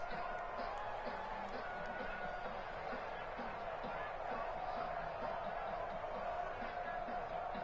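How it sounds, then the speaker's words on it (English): A stadium crowd in Madden NFL 22 roars steadily during a tense two-point attempt, a constant, fairly distant wash of cheering with game commentary talking over it. "as this crowd rises to make things difficult"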